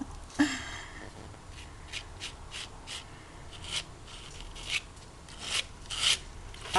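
Soft rasping and rubbing of a tool scraping and wiping a light coat onto a surface, in short repeated strokes, close and quiet, with no talk.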